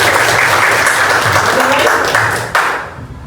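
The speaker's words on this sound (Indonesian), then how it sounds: "boleh tepuk tangan dulu" Students in a Quran-reading classroom clap together, loud close hand-clapping that holds briefly then drops away sharply, leaving a few scattered claps and murmurs.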